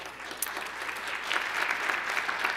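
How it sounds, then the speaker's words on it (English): Audience at the 2014 New York City State of the City address clapping steadily, a dense, fairly loud wash of applause that holds and swells slightly through the whole stretch. "That's the CUNY folks are clapping there"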